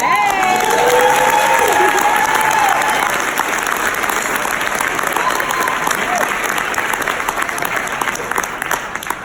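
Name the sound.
audience applause at a school gala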